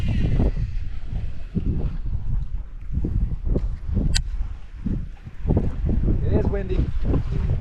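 Gusty wind buffets the microphone on a lake during spring bass fishing in Orlando, Florida, with irregular rumbling bursts and low roar under occasional voices.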